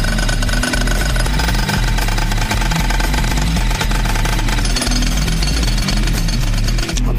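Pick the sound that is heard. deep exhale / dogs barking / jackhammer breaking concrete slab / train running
jackhammer breaking concrete slab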